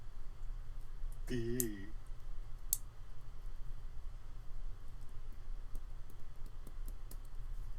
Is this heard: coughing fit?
no